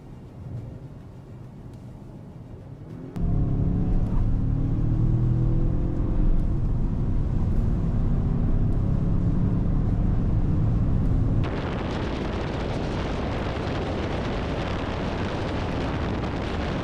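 2024 Acura RDX, Lincoln Corsair and Mazda CX-5 in a drag race: a quiet idle, then a sudden loud burst of engine roar under acceleration that climbs in pitch, turning to heavy wind and road rush.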